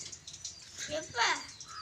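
A small bird gives a brief call, rising once fairly faintly beneath nearby human talk and background noise.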